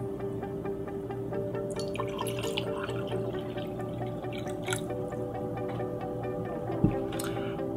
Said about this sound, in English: Unfiltered tap water, which we will pour in two glasses.